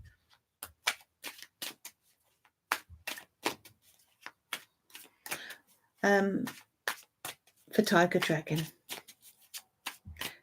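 Tarot cards shuffled in rapid, crisp bursts of snapping clicks, close and distinct, with brief stretches of talking breaking in partway through.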